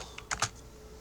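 A few quick keystrokes on a computer keyboard, close and fairly quiet, clustered in a short burst over faint room noise with no talk.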